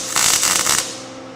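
A short burst of dense electric crackling and sizzling, like a welding arc frying, lasting under a second and then cutting off.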